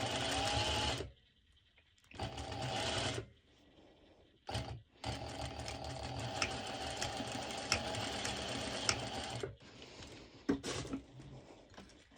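Sewing machine running a straight stitch on a crop top, with several bursts of fast, steady whirring separated by short pauses.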